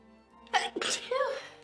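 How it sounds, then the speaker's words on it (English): A single sharp sneeze from a Sims 4 character, a quick inhaled build-up bursting into a loud, close expulsion, followed by a brief voiced tail. "I've been sneezing okay? a lot recently."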